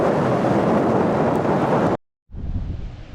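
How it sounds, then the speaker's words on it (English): Strong wind roars and buffets a microphone on a seaside promenade in Rhyl, North Wales, above a choppy sea, cutting out briefly to near silence before the gusting rush returns. "It's very, very windy"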